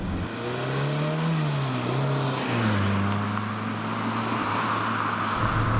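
A small four-cylinder engine in a 30-year-old Peugeot 205 hatchback, heard from inside the car as it pulls and revs through the gears, the pitch climbing, dropping at shifts and rising again, loud and steady throughout.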